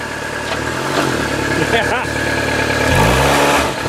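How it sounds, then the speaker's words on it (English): A car engine runs close by after being started with its O2 sensors disconnected, idling with a low rumble that swells in a couple of revs. Someone talks over the engine. "The reason why I started this car is because I undid the O2 sensors."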